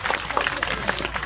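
An audience at a Hindu sammelanam at Viravalli Agraharam breaks into brief scattered clapping, a quick patter of claps beneath a speaker's voice.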